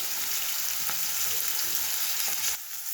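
Turmeric and onion sizzle and fry steadily in a pan for tamarind rice, a dense, even crackle that holds at close range, with faint stirring ticks, then drops slightly softer near the end.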